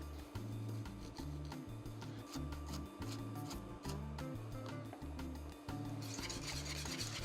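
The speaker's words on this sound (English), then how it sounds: "stir the polenta" A spoon stirs creamy polenta in a pot, giving soft, repeated scraping strokes against the pot under a steady background.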